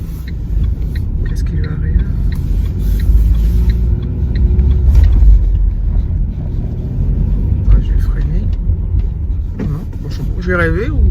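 A car engine struggling in the cold gives a steady, fairly loud low rumble that runs throughout, with a voice speaking over it at times.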